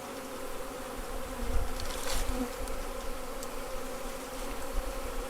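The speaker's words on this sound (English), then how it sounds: "Box full of angry bees," Angry honeybees swarm and buzz inside a nuc box, a steady dense drone that holds throughout with brief louder swells, close and continuous with no talking.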